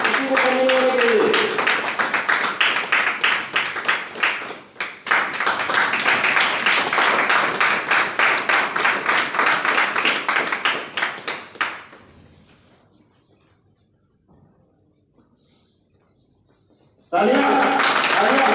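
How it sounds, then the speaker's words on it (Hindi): An audience clapping at a public gathering, dense continuous applause up close that briefly dips and swells, then fades away to near silence before a short loud burst returns at the end; voices mix in. "तालियां बजाते रहिए सर"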